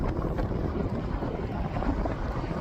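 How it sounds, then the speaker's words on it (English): Steady wind roars and buffets across the microphone, a continuous low rumble with no break throughout. "It's windy."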